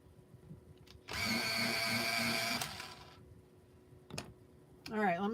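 A pencil for adult coloring is sharpened with a loud, steady mechanical whir lasting about a second and a half, followed by short clicks and then a brief voice.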